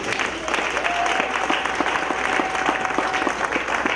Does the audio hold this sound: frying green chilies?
no